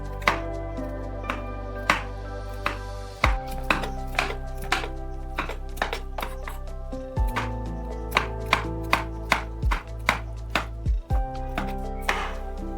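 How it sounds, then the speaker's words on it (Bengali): A knife chopping a small bitter gourd (uchhe) on a cutting board, sharp close taps in an uneven but steady run over a constant low hum, with no voices. "এই উচ্ছেটা খুব একটা বড় নয় বলে আমি এটাকে এভাবেই কাটলাম।"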